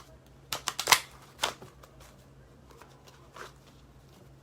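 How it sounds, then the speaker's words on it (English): A few quick riffles of tarot cards being shuffled close by, brief papery bursts separated by short pauses with a faint background hum. "Just want to shuffle real quick."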